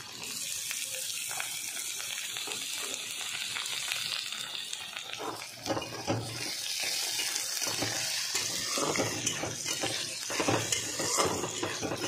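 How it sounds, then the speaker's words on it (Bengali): Potatoes tipped into a pan of fried onions set off a steady, close sizzle, with the scrape and clatter of stirring running throughout and no talking. "দেখো আমার পেঁয়াজটা ভাজা হয়ে গেছে, এবার এর মধ্যে আমি আলুগুলো দিয়ে দেবো।"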